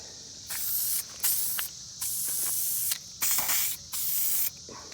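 Spray-can primer hisses onto a C3 Corvette interior trim panel in about six short bursts, close and crisp, with quiet pauses between them and no talking.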